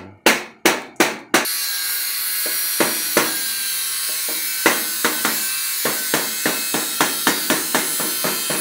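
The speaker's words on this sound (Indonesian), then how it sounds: "Ini palu yang bikinan Jerman." A German-made hammer strikes a metal plate during bending work, with four loud, ringing blows at the start, then a long series of lighter, evenly spaced taps continuing steadily.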